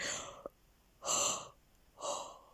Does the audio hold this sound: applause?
no